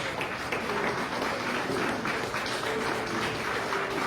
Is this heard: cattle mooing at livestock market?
no